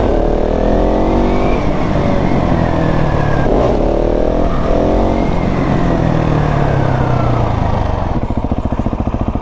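Motorcycle held up in a wheelie with the throttle feathered, a loud close engine roar rising and dipping in pitch as the revs are modulated, steady throughout with no talk.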